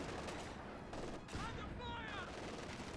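Machine gun fire rattles through a busy Company of Heroes 2 battle on the Red Ball Express map, dense repeated bursts layered with other gunfire, while a commentator talks over it.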